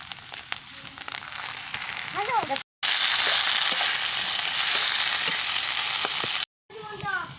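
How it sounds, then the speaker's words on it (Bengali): Taro leaves and rohu fish curry fry in a hot pan with a loud, steady sizzle and spatter that continues through the clip. The sound drops out twice briefly, and faint voices come through underneath. "মশলাটা কষানো গেছে ডিমটা আমি দিয়ে দিচ্ছি দিয়ে দিচ্ছি কচু শাকগুলো"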